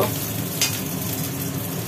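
Close, steady sizzling of potatoes frying in hot oil in a pan, with a brief scrape of stirring partway through.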